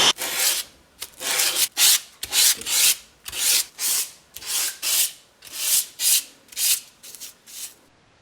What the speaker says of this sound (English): Then I sand it, get it nice and even.